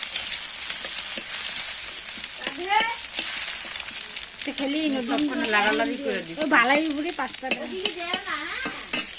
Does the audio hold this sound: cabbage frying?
yes